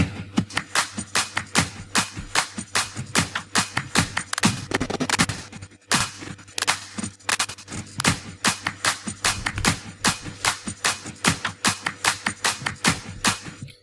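Dense, layered drum loops play steadily, sharp hits and snappy percussion stacking in a busy repeating rhythm, loud and close with no voices.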